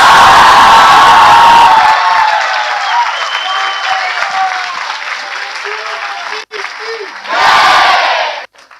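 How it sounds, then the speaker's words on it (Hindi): Church congregation shouting and cheering for Jesus, a loud roaring crowd with applause and whoops that fades and then surges again near the end. "somebody shout for the Lord Jesus."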